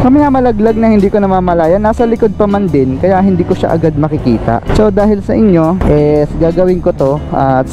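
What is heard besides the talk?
No everyday noise stands out behind the speech.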